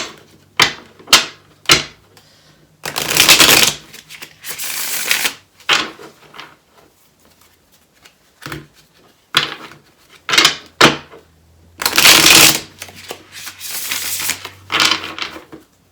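Tarot cards get shuffled by hand in bursts of crisp riffling and soft slapping, loud and close, separated by short quiet pauses and a few light taps.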